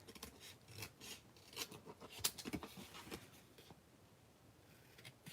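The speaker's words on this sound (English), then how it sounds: "Grab my trusty snips, and we'll just trim this down." Metal craft snips trimming excess material from a stamp piece, giving a run of short, dry cutting rasps and snips at close range with no talking.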